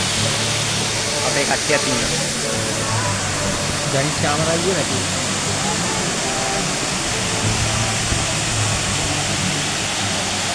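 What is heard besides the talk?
Baker's Falls waterfall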